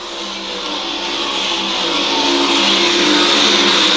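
World of Outlaws sprint race cars at speed on a speedway oval, a continuous loud engine roar that swells steadily as cars open up out of the final turn, with no talk.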